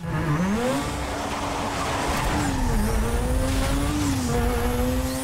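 A Mazda RX7 slides through a drift in Need for Speed Most Wanted with a sustained, wavering tire squeal over a loud, continuous engine roar.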